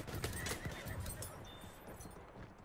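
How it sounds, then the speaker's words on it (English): A horse in the video game Battlefield 1, neighing and clip-clopping at a gallop amid rumbling game effects, with the hoofbeats and whinny close and fairly loud. "I just ran over four people with the horse."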